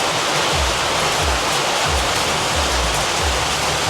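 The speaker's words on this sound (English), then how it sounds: "Rain is started, so this is the first rain when I'm here in Paraguay." Steady rain falling in Paraguay, a dense continuous hiss with low rumbling gusts, loud and close throughout with no voices.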